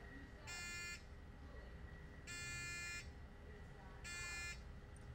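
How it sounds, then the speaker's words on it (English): RD-11 remote buzzer sounding in three evenly spaced electronic bursts, each lasting about half a second, over a quiet room hum and a faint background murmur. "The default action is to pair up, and you have a remote buzzer."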